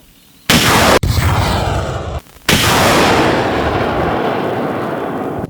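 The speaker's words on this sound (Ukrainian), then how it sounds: "Партизан розгорнутий, до пострілу готові. Постріл!" Two loud launch blasts in quick succession from a Partizan multiple rocket launcher, a mini BM-21 Grad, each roaring and trailing off into a long rushing rumble outdoors.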